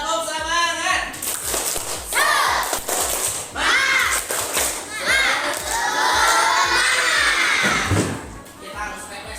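A group of children in a classroom does a tepuk semangat clapping chant, shouting in unison over rhythmic claps, loud and close, with an adult voice mixed in.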